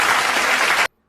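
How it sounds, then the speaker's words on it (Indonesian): A classroom of students claps together in a dense, loud burst of applause lasting under a second, then stops abruptly. "Beri tepuk tangan."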